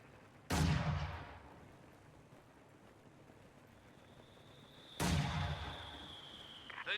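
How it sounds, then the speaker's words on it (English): Mortar bombardment in a real-time strategy war game: two heavy booming impacts about four seconds apart, each a sharp blast with a decaying rumble, the second followed by a lingering whistle-like tone over quiet battlefield ambience. "Mortar bombarding blind right there."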